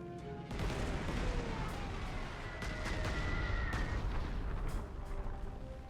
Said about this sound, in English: So we're just going to bomb these guys again.